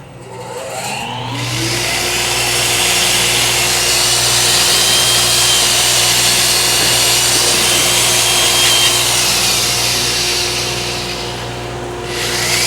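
A loud, steady whir of a power sander with a sanding disc running continuously for several seconds, winding up at the start and spinning down at the end.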